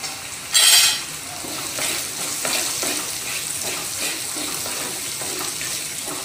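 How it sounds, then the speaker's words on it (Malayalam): Ridge gourd pieces with turmeric powder fry in oil, a steady close sizzle with scraping stirs and a brief louder hiss early on. "മഞ്ഞൾപ്പൊടിയും ആ എണ്ണയിലൊക്കെ കണ്ടിട്ട് നന്നായിട്ടൊന്ന് ഫ്രൈ ആയിട്ടുണ്ട്."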